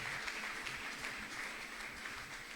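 A church congregation applauds in a steady, fairly faint wash of clapping that lasts the whole moment, with a soft hiss in the background.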